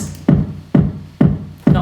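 Kick drum heard without saturation processing, four dry, rounded low thumps repeating at a steady tempo, each with a short boomy decay and nothing else around it.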